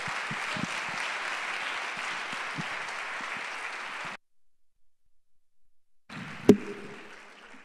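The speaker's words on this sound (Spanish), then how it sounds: "le pedimos a todos un fortísimo aplauso para Constantino Iglesias." Dense audience applause fills a university sports awards gala for about four seconds, cuts to near silence, then resumes with a sharp knock.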